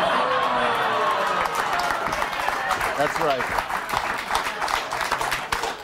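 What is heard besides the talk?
audience clapping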